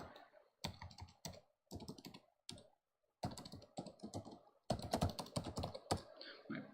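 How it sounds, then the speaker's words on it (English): Fingers type on a computer keyboard in quick bursts of close, crisp key clicks separated by short pauses, entering an email address. "I'll type in my email."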